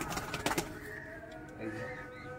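Soft cooing from a green doyaj pigeon in a pet pigeon collection, close and low, with a busier burst early on and steady murmuring coos after.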